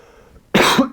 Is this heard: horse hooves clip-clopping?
no